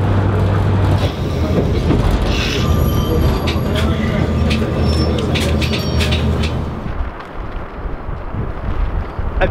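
A diesel Pacer passenger train rumbles steadily with a low engine drone, wind buffeting the microphone, then fades away as it departs Netherton, leaving quieter outdoor ambience.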